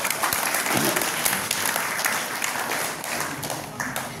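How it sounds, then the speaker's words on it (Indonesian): Applause from an audience at a labor union and party declaration press conference, steady dense clapping filling the whole moment without a break. "Mari kita beri aplaus buat KSP-PB."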